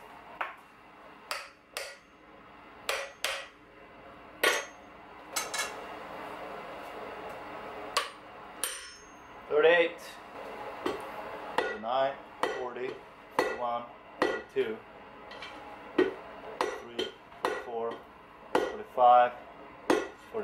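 Metal strikes from a blacksmith hammering a flatter to flatten a forged piece, likely a bottle opener loop, in a steady run of sharp ringing clanks with brief gaps, close and fairly loud throughout.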